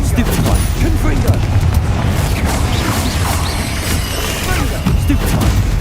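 Confringo blasting spells explode in Hogwarts Legacy, a loud, dense wall of booms and crashing blasts that rolls on without pause, layered over continuous battle noise.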